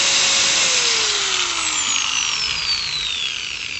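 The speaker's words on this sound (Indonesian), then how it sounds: "ini gerinda ini produk terbaru ya teman-teman nih di 2020" A Stanley STGS 5100 4-inch angle grinder runs alone at full speed with a loud high-pitched whine, its pitch drifting slightly lower as it spins steadily.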